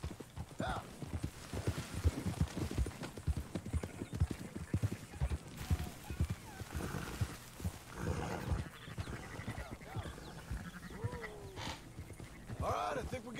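In Red Dead Redemption 2, horse hooves clip-clop in a steady trotting rhythm, with voices talking over them and occasional animal calls in the background.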